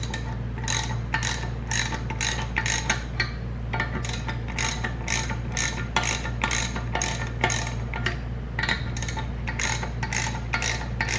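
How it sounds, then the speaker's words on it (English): Steady, close ratcheting clicks in quick repeated bursts as bolts are tightened on a homemade valve spring compressor, over a constant low mechanical hum. "So you just start tightening. Just tighten them. I'll do a couple turns on each one."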